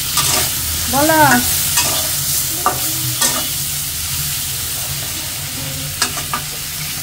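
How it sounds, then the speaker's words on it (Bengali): Slices of pointed gourd (potol) frying in a pan, a steady close sizzle under occasional stirring scrapes, with a brief voice and a few sharp clicks mixed in. "পাশে উস্তা ভাজিটা নামার পরে যে পটলগুলো দিয়ে দিচ্ছি, আমি পটলগুলো ভাজি করে নিই।"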